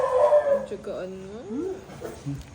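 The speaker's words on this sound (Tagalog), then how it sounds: "Kumakaw na yung mga aso" Dogs yelping and whimpering in rising, whining cries with a few short barks, fairly close and mixed with talk.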